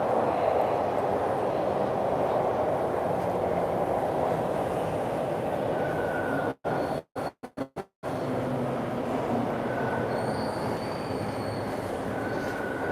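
A Toronto TTC subway train rumbles steadily close by, with a loud continuous roar of wheels on rails that cuts out briefly in a few sharp gaps before resuming.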